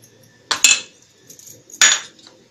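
A spoon clinks twice against a steel pot or bowl while mixing tomato sauce into a paste, each sharp metallic tap ringing briefly, close and loud in an otherwise quiet kitchen.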